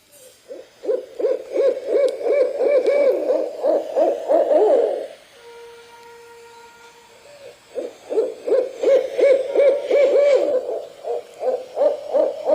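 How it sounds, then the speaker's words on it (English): Rapid, rhythmic owl hoots repeat in long runs, pausing briefly for a steady tonal call before the hooting resumes, clear and fairly close. "The sound of owls."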